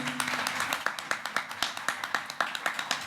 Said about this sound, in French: nous recevons, si vous êtes d'accord avec vos applaudissements, Jean-Michel Galva.